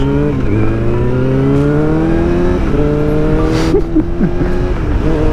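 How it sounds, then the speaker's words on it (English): A car engine revs hard and loud through the whole stretch, its pitch climbing and falling in repeated surges with a steady roar of exhaust and no talking. "I heard the sound of the car"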